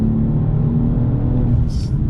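Engine of a 2022 BMW M440i Gran Coupe, a loud steady low rumble heard from inside the car, with no break or rev change across the short stretch.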